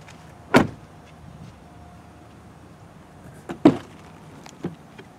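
Rear power window on a 2018 Ford F-150 STX Sport Edition, heard close up inside the cabin: a faint motor hum between two sharp clunks, then a lighter knock near the end.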